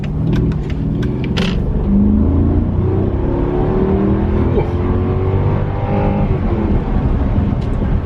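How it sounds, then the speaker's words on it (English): A Mercedes S550 engine revs hard in sport mode and climbs through the gears, a loud sustained roar rising in pitch, heard from inside the cabin. "I'm gonna click it into sport mode and get on it a little bit right now"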